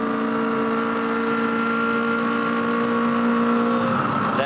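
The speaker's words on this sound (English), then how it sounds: "Car absolutely screaming down into turn 1, which is one of the fastest corners anywhere in Australian motorsport, and Tim Poulton is the form driver" A small race car's engine screams at high, steady revs on the run into turn 1 at Eastern Creek during a 2007 Australian Performance Car Championship race. The tone is loud and sustained, then shifts briefly right at the end.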